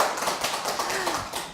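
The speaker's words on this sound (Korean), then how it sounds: "여러분께서 응원의 박수 한번 보내주시면 고맙겠습니다." Talk show studio audience clapping in a continuous burst of many hands, fairly even and moderately loud, easing off slightly toward the end.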